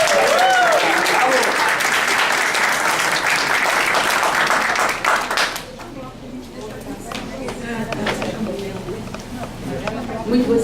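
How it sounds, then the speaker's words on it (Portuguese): Audience applause at a therapy congress welcoming a speaker, loud clapping for about five seconds that cuts off sharply, leaving quieter room sound with scattered claps and voices. "Vamos recebê-la com uma salva de palmas."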